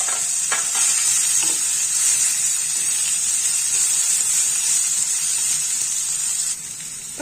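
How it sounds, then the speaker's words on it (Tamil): Ridge gourd peel sautéed in a pan, a loud steady sizzle with a few stirring scrapes early on, close up, easing slightly near the end, with no talk. "ஒரு கைப்பிடி பீர்க்கங்காய் தோல் சீவனது இதையும் இதோட வதக்கலாம்."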